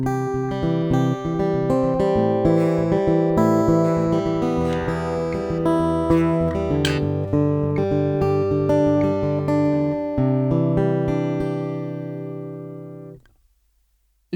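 Acoustic guitar strummed and picked through the XLR direct output of an Orange Crush Acoustic 30 amp, ringing chords played steadily and clearly alone, then cut off abruptly near the end.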